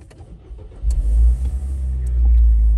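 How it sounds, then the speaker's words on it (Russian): A 2013 Nissan Juke Nismo engine cranks and catches close by, then settles into a steady low idle rumble with a slight rise in revs toward the end. "Давайте запустим двигатель."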